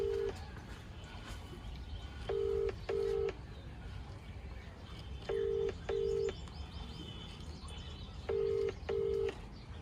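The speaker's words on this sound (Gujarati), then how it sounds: "ફોન કર્યો ચેતનભાઈને" A phone call being placed gives off a ringing tone of paired beeps, repeating three times at an even pace, fairly faint over a low background hum.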